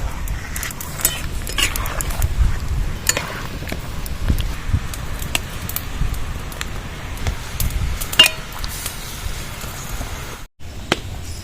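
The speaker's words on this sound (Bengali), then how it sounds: "অন্য একটু হলুদ দিয়ে দেব ভালো করে নাড়াচাড়া করে দেবো" Mango pieces stirred with turmeric in a pan: scraping and light clinking of a utensil against the metal, irregular and close, with occasional sharper knocks and a brief gap near the end.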